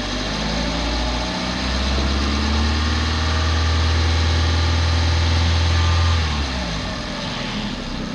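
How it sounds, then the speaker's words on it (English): Hyundai Accent engine being revved up from idle, a steady loud low rumble that rises and holds higher for several seconds before settling back down, with no talking. "And now if I'm gonna raise the RPM,"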